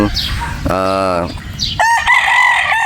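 Gamecock roosters crow loudly nearby on a game farm in Batangas, one long call followed by another overlapping crow, with some clucking around them.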